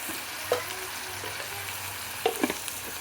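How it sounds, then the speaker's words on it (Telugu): A small spoonful of coriander seeds fried and stirred in a pan for a green moong dish, giving an even sizzle with a few spoon scrapes and clinks against the pan, nearby and without speech. "బాగా కలియబెట్టి కొద్దిగా ఒక 2 నిమిషాలు వేగనివ్వండి ఇలాగా"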